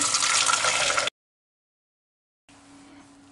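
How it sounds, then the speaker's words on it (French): Fish stock pours through a fine sieve lined with cheesecloth, a steady splashing trickle of liquid that stops abruptly, then after a pause resumes more faintly, close by with no talk. "Je vais filtrer mon fumet dans une passoire fine étamine."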